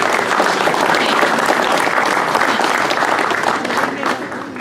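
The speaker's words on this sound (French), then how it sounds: "Je crois qu'on peut l'applaudir." An audience at the inauguration of a town hall extension in Garéoult applauds the site manager, with loud, dense, continuous clapping that tapers off slightly near the end.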